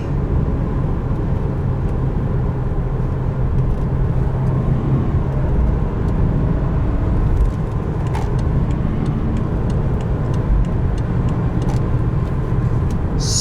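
A 2014 BMW 550i xDrive accelerating, its engine a loud, steady drone heard from inside the car alongside road and wind noise, with no talk.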